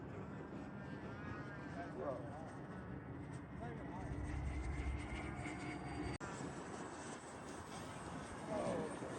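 Model airplane flying outdoors in gusty wind, its engine a faint distant drone rising and falling beneath people talking nearby.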